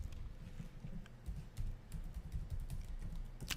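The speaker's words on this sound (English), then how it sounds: "type in your password" A password is typed on a computer keyboard, with a steady run of quick, close key clicks and occasional heavier taps.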